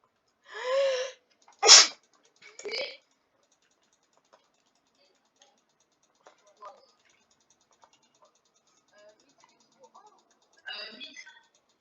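A single loud, close sneeze from a player during a Muck gaming session, followed by a short sniff and quiet vocal sounds, then near silence and a brief voice at the end.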